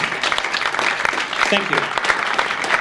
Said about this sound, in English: can you please get up on your feet and give him a big round of applause?